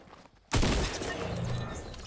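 Fortnite gunfire bursts in abruptly after a quiet moment as a loud, dense rattle of shots that keeps going for about a second and a half, with no voices.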